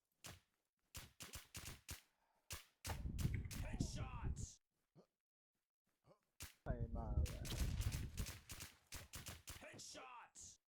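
Video game gunfire crackles in rapid bursts of sharp shots, with longer automatic strings in between and pauses of silence, while a voice talks during the heavier volleys.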